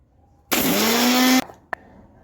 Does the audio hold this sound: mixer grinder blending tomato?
yes